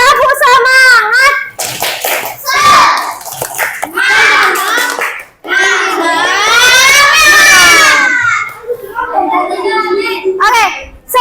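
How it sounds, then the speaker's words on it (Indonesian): Class 3B schoolchildren chant the tepuk semangat spirit clap together in a classroom, loud overlapping young voices in bursts with claps woven between the chanted phrases. "Ulangi, tepuk semangat."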